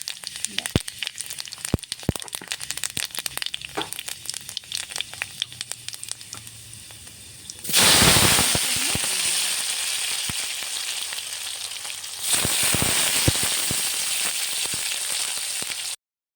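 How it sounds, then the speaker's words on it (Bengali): Panch phoron spices dropped into hot oil for a Bengali cauliflower and potato curry, a sudden loud sizzle that settles into a steady hiss, then flares again with a second addition. "এবার গরম তেলে দেখো একটু পাঁচফোড়ন দেওয়া হচ্ছে।"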